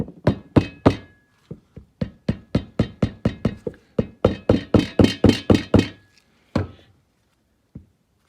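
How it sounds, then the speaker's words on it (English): Dull, heavy soft-face hammer thuds strike repeatedly in a steady rhythm while driving rear wheel bearings on a 2015 Honda TRX Rancher 420 ATV, close and loud, slowing to a few final blows. "we'll use the other soft faced hammer here."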